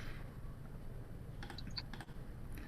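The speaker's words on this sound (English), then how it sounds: "I know why it's going out, because I'm typing and then it'll cut it off." Fast typing on a computer keyboard comes through faintly as a short burst of light clicking keystrokes over a low background hum, with no voices.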